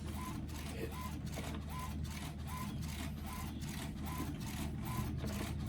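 Printer feeding paper and printing, with a steady mechanical whir and regular rhythmic clicks of the print head, faint and continuous without voices.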